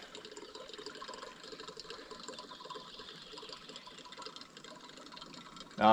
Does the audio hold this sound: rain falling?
yes